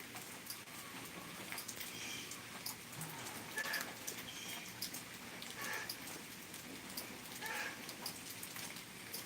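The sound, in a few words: light rain sprinkling outside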